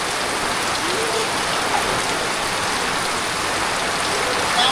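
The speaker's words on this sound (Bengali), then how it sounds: "হঠাৎ করে বিকেল বৃষ্টি" Sudden afternoon rain pours down steadily around a rural home, a dense even hiss of drops on surfaces, loud and continuous with no voices.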